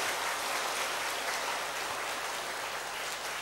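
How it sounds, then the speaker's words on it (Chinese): Audience applause in a Buddhist lecture hall, a dense, even wash of clapping from many hands at moderate distance, steady throughout. "掌声鼓励一下吧"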